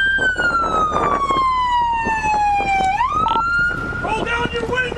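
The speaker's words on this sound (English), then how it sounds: "Corey, turn your siren off!" A police car siren wails loudly nearby during a traffic stop, its pitch sliding down then jumping back up, with voices and bustle underneath.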